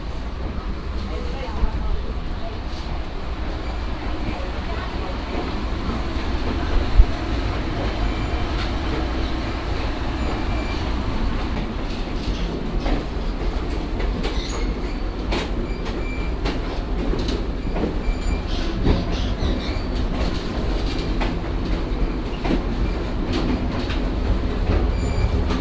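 The steady rumble and rattle of a 1949 passenger train car rolling on rails fills the whole stretch, with rhythmic clacking and occasional faint squeals, continuous and fairly loud.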